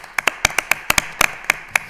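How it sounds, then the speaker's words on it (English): Applause at a Lowell Veterans Commission meeting: a short, sparse round of hand clapping from a few people in a room, with about a dozen separate sharp claps spread irregularly over two seconds. "give Eric a round of applause for getting this done"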